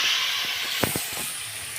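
A dal tempering hits hot oil, which sizzles with a steady, loud hiss, broken by a few quick pops and crackles.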